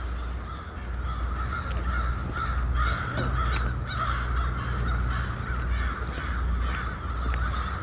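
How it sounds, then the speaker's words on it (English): A murder of crows caws repeatedly around a building where cheese snacks were scattered, harsh calls overlapping over steady outdoor background noise, no talking. "So we have a murder of crows here."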